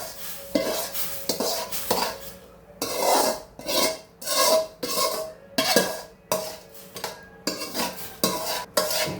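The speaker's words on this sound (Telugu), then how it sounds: "సో ఇప్పుడు రవ్వనంతా కూడా మనం ఇందులోకి వేసేసుకుంటున్నాం." Semolina poured into simmering chana dal payasam and stirred with a spoon against a metal pot, in repeated scraping strokes with brief pauses, close and fairly loud, with no talking.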